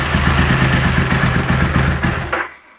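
An Aprilia Tuono motorcycle engine idles loud and close with a steady, rapid pulsing beat, then its idle drops and the sound fades away in the last half second.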